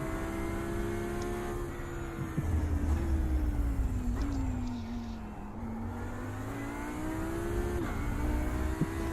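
A GT3 race car drives a lap at Laguna Seca, its engine a loud, close, continuous howl that climbs and drops in pitch through gear changes, braking and acceleration.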